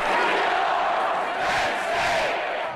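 Packed college football stadium crowd roaring a call-and-response chant, two swelling waves of massed voices from opposing sides, loud and reverberant, with cheering throughout.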